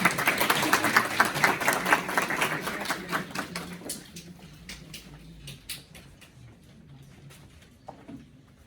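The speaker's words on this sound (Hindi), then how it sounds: "उनका तालियों से प्लीज स्वागत करें" Audience at a Hindi Divas celebration held with the High Commission of India, applauding to welcome the Indian High Commissioner: dense rapid clapping from many hands, loud at first, then thinning to scattered claps before fading out.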